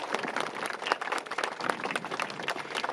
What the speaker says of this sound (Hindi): जोरदार ताली बजा करके गुरु जी का स्वागत करा